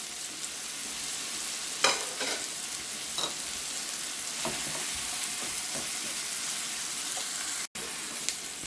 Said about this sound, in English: Continue cooking and mixing until the hamburger meat is fully cooked